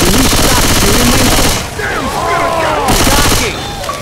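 Rapid automatic gunfire rattles in the zombie shooter game Left 4 Dead, loud and close in dense bursts that break off briefly and then resume, with voices calling out in the middle.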